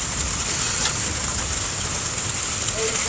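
Steady hiss of rain and gusting wind during a storm in a Chicago neighbourhood under a tornado warning, a continuous loud wash with no breaks.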